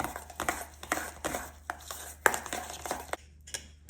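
Garlic, butter and parsley being mixed together in a bowl for cheesy pull-apart garlic bread, with close, irregular scraping, clinks and taps of a utensil against the bowl, no voices.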